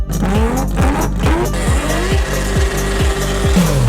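High-revving Mazda RX-7 rotary engine climbing through gears, with quick repeated shifts and a buzzing, rasping tone, loud and close.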